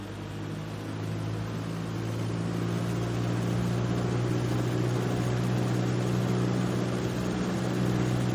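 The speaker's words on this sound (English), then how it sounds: "Throttle up to 1800 RPMs." A Cessna 172 Skyhawk's piston engine in a flight simulator is throttled up to 1800 RPM, settling into a loud, steady droning hum that stays constant throughout.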